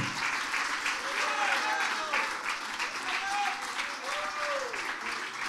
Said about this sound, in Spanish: Dele un aplauso al que vive para siempre.